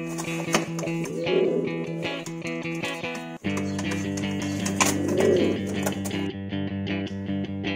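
A domestic male and female pigeon coo softly and steadily, close by, in repeated low throbbing phrases with no talk.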